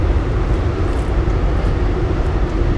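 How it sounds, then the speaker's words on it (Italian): A train rolls past an abandoned beach club and pool complex, a steady, loud low rumble filling the whole stretch without a break and no voices over it. "sta a passare il treno,"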